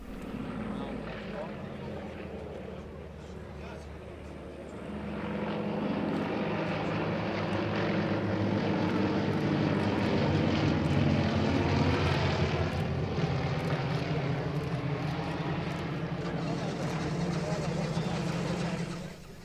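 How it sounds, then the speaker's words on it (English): Yak-52 and Yak-54 aerobatic propeller aircraft from an air club near Moscow fly at an air show, their engines a steady, loud drone that swells after a few seconds and holds, with voices faintly underneath. "They fly a mix of two types, three Yak-52s and the Yak-54 for solo maneuvers."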